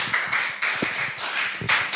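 Scattered audience applause at a spelling bee, a modest crowd clapping in an uneven patter of claps and taps, moderately loud and without talk.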